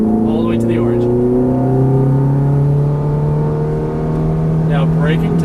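A Ferrari F430 on a race track accelerates hard, its engine note climbing in a loud, close, smooth rising whine from the cabin, with a driving instructor's voice heard briefly over it.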